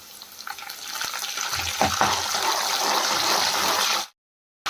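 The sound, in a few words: curry leaves added to frying onions in oil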